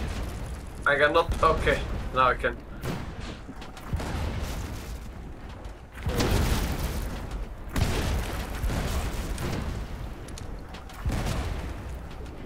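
Ship cannons booming in the pirate naval game Blazing Sails, several heavy blasts spread across the stretch, loud and close, mixed with players talking over voice chat.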